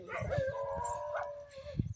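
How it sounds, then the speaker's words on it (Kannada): Several dogs barking and howling at people approaching a farm field, the dog noise running steadily under people talking nearby. "ನಮ್ಮ ನೋಡಿ ಎಷ್ಟು ನಾಯಿ ಒದ್ರಾಕತ್ತಾವು"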